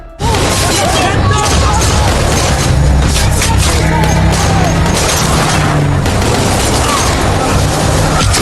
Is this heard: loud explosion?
yes